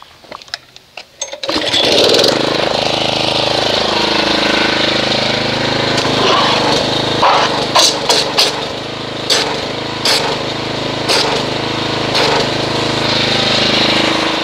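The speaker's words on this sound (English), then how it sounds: "we will agitate this with a pressure washer" A pressure washer runs loud and continuous close by, agitating a dense hybrid snow foam soap, its motor drone starting after brief clicks and holding steady with a few sharp knocks over it.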